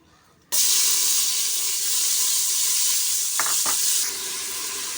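A sprig of curry leaves dropped into a little hot oil sets off a sudden loud sizzle that holds steady. A couple of brief clinks sound near the end as the frying eases slightly, and no one talks.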